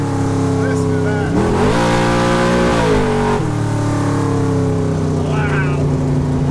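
Close by, the engine of a 1985 Jeep Scrambler rumbles at a deep idle, surges into one strong rev that holds and then drops, and returns to a steady throaty burble.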